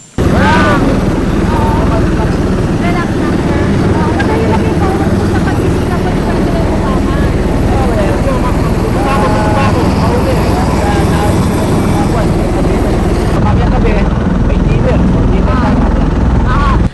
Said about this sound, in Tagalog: Kasama nitong lumipad ang 2 Osprey helicopter bilang kanyang escort.